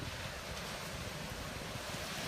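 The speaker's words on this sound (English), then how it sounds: "I won't talk for about 35 seconds and let you guys listen to the water." Ocean waves break on the shore at Kua Bay in the morning, making a continuous faint wash of surf and hiss with some wind noise on the microphone.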